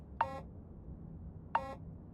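Two short, clean electronic beeps sound about a second and a half apart in the video game Starfield, quiet against a soft low background hum.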